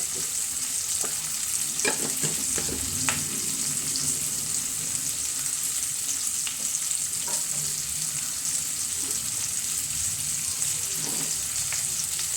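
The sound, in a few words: sautéing chili powder in paneer butter masala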